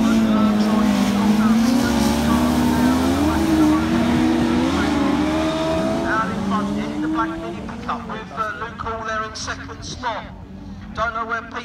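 Race cars in an IK Class 7 heat thunder around a circuit, one engine snarling close and loud, then others sweep past and fade, with a commentator talking throughout.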